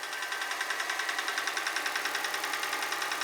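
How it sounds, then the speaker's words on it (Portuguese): A car engine knocks from the top of the engine with a rapid, even tapping beat over a steady running hum, recorded close and alone. "a batida que a gente ouve na parte de cima do motor"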